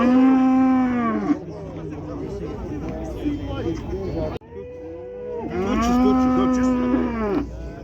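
Cattle at a livestock market in Kyzylorda, Kazakhstan, where horses, cows and sheep are sold, give two long, loud, drawn-out moos nearby, with crowd chatter and market noise running underneath.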